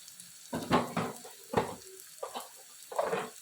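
An egg omelette with onion fries in coconut oil, giving off a crackling sizzle in several close bursts as the pan is stirred, with quiet pauses between them.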